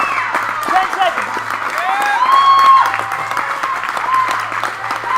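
A crowd at a 2015 Dover event cheers and applauds loudly, dense clapping mixed with whoops and shouting voices, swelling briefly in the middle before holding steady.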